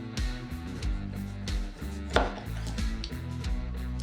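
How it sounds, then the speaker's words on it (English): A knife cuts a lemon and a lime into wheels on a board. Close, crisp chopping strikes come in an uneven series, with one sharper knock near the middle and no talk. "So just cut the other half of your lemon and then throw it in there."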